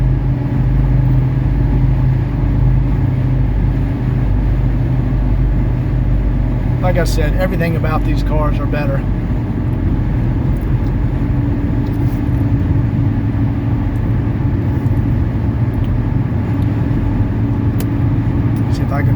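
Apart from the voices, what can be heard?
1979 Mercedes 300SD car driving and shifting gears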